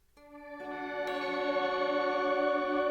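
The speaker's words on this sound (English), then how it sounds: "here's the orchestral swell with mood reverb." Sustained tones from a Chase Bliss Lost and Found pedal build as an orchestral swell through mood reverb, with layered notes stacking on each other and growing steadily louder into a rich, ringing wash.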